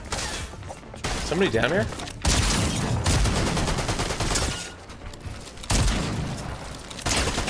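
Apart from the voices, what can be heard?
gunfire in the video game Fortnite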